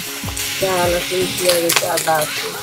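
Onion, chili and ginger sizzling in a pan on a clay stove while being stirred, a steady close frying hiss with scraping stir strokes, under people talking.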